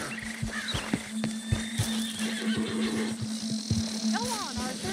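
A horse in Red Dead Redemption 2 snorts and whinnies close by, with hoof clops and a drawn-out neigh near the end, over a steady low hum and some talk.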